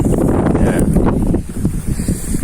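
Strong wind blows across a high hillside, buffeting the microphone in a loud, continuous roar that eases briefly near the end.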